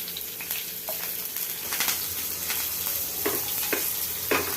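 Chopped chilies hit hot oil already seasoned with asafoetida and curry leaves, giving a close, steady sizzle broken by sharp crackling spits and pops.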